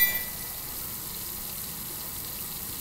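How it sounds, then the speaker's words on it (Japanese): A water tap left running indoors gives a faint, steady rushing hiss that continues evenly throughout. "水の音。 なんか出しっぱ。"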